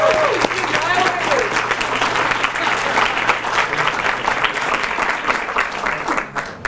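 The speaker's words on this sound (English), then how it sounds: "Could we give our debaters another round of applause" An audience at a Brookings versus UNLV debate event gives a sustained round of applause for the debaters, dense clapping close by that thins slightly toward the end, with a voice briefly heard over it.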